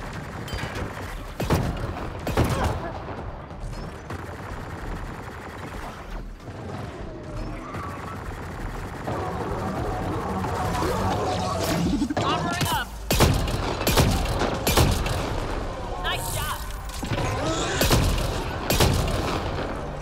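Shotgun blasts and combat noise from the video game Mass Effect: Andromeda, with several sharp, loud bursts over a dense, busy battle soundscape and a voice talking intermittently.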